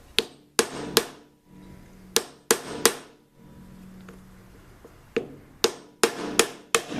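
Sharp hammer blows knock the knife-locking blocks loose on a Craftsman model 306.23371 planer, striking metal in two quick clusters of hard ringing hits separated by a low hum and short pauses, close and loud.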